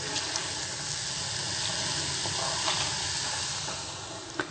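Jelly noodles dropped into a pot of boiling water for a vegetable tofu soup give off a steady, fairly quiet hiss and bubbling that runs without a break.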